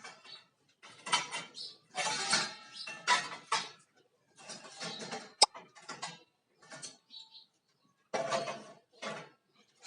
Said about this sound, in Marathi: घासलेली भांडी आता लावायची